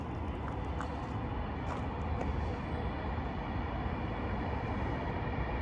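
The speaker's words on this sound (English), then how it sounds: "Look at that train." A steady, low rumbling roar holds throughout, like a train rolling past at some distance, constant and fairly faint.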